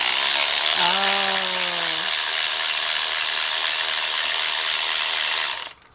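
An impact wrench spins up on a spark plug of a 2015 Dodge Charger Scat Pack, its motor whining in a falling pitch for about a second over a steady loud hiss that runs until a sudden cutoff.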